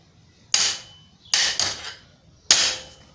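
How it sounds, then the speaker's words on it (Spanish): Three sharp metallic hammer strikes on a beach cruiser bicycle pedal being tightened, spaced unevenly with a quick double blow in the middle, each ringing briefly before fading, close and clear with no talk. "Vamos a martillar un poquito, vamos a golpear."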